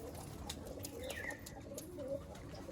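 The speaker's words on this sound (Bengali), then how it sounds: "দেখছেন কত পায়রা দেখুন" Punjabi Malwai pigeons coo softly in a crowded loft, low steady murmurs over a constant bed of rustling and distant background noise, with occasional brief chirps rising above.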